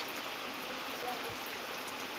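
Heavy monsoon rain in Nashik district, a steady broadband hiss of downpour that stays even and continuous throughout, with no speech.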